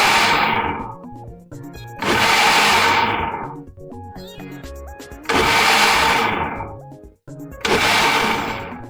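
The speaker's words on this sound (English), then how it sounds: "So I'll go blend it now." A kitchen blender pulses ewedu leaves with very little water, four loud whirring bursts of a couple of seconds each separated by short pauses, with quiet rattling between them.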